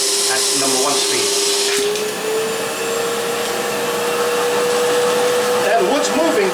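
Milwaukee M18 backpack vacuum running at its first speed setting, a steady loud motor whine with a sustained tonal hum and broadband airflow rush throughout, with brief rattles of wood pieces being drawn in near the end.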